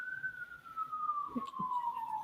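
A single siren wail slides slowly downward in pitch, steady and moderately loud, with a couple of faint thumps underneath.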